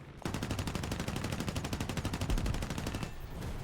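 Aircraft guns firing in War Thunder air combat: one sustained burst of rapid, evenly spaced shots lasting about three seconds, loud and close, then stopping abruptly.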